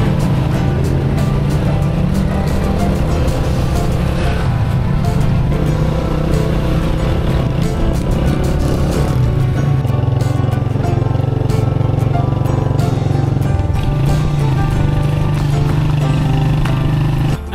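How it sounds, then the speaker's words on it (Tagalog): Motorized tricycle ride in Magalang, Pampanga: a loud, steady engine drone with rattling road noise that holds throughout, without a break, as the vehicle travels along. "dito naman sasakay na din tayo ng tricycle"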